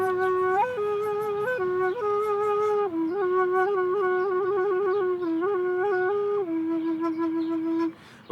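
A single Indigenous flute plays a strong, breathy melody close up, with forceful accented notes and quick ornamented steps between pitches, sustained almost without pause for several seconds.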